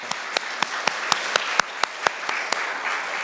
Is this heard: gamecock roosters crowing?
no